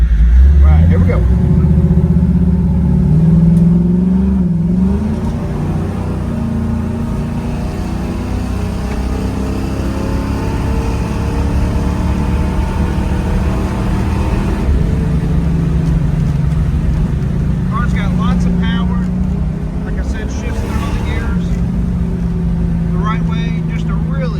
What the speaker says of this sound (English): It's got a great 383 stroker blueprint crate engine in the car.